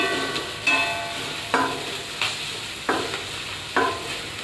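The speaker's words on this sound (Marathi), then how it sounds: "कांदा पण थोडा परतून घेऊया चांगला होईपर्यंत, थोडा ब्राऊन भाजेपर्यंत" Chopped onion sautéing in a pan for a mutton rassa, a soft steady sizzle broken by about six distinct stirring scrapes and clatters at regular intervals, close and without talk.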